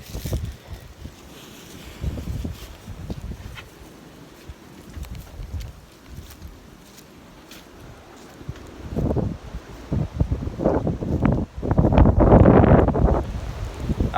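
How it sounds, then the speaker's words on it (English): Gusty wind blowing outdoors in a yard, rumbling against the microphone in irregular waves that swell much louder and rougher toward the end, with no talking. "y'all can probably hear the wind"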